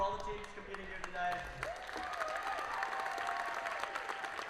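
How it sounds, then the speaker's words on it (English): Applause from an audience of robotics teams fills a school tournament arena, a moderate wash of clapping under a loud, echoing announcer's voice. "Let's hear a big round of applause for all the teams competing here today."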